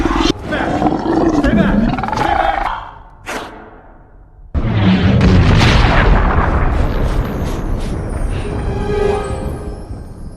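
A tiger in the animated film The Croods lets out loud, rumbling roars, with a burst near the start and a long powerful roar after a brief quiet gap, mixed with booming film effects and a narrating voice.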